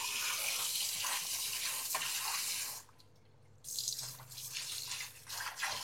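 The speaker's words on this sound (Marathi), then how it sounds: "पाण्याने मटण धुवून घ्यायचं." Mutton rinsed in a brass plate under running tap water, a steady splashing rush that breaks off for a moment and then resumes, close and alone.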